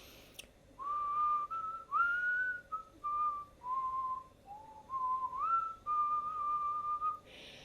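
A clear, solo whistled melody of sustained and gliding notes, moderately close, with brief pauses between phrases.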